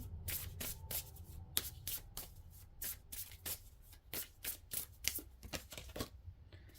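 Tarot cards being shuffled by hand, a steady run of crisp riffling slaps and soft papery flutters repeating close up over a low background hum, with no voices.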